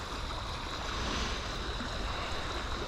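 Broad, steady rush of flowing river water at sunrise, continuous and fairly loud with no clear breaks, with faint wind noise mixed in and no voices.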